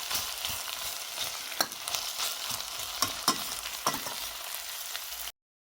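Two sliced onions sauté in oil in a pan over medium heat, a steady close sizzle and crackle with a few soft clicks of stirring, no voices, cutting off abruptly at the end.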